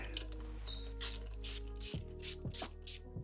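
Quick clicking bursts of a ratchet wrench loosening a bracket on a supercharged Range Rover engine, several short sets of clicks, close and fairly quiet over a steady low hum.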